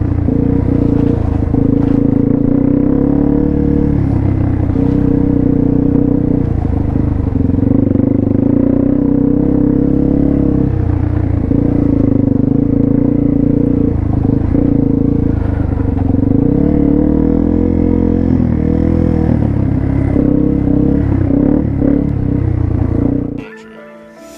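A Yamaha TW200 dual-sport motorcycle engine rumbles loudly and continuously while riding, its pitch rising and falling with the throttle, then drops off abruptly at the end.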